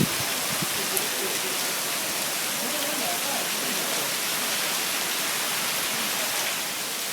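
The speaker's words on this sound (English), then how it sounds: "now it's starting to pelt with rain" Heavy rain pelting down in a park in China, sounding as a dense, even, steady hiss of falling water that carries through the whole stretch without letting up.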